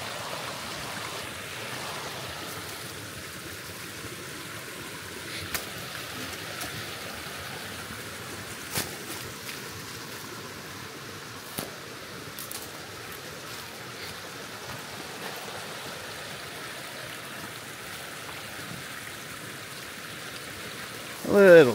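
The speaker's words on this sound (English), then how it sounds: "And now the trail has descended right against the creek." Creek water flowing beside a forest hiking trail in the Smoky Mountains area, a soft continuous rush close by, with occasional footstep knocks and a brief rustle at the end.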